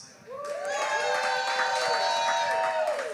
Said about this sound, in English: please give a huge round of applause to Kryss.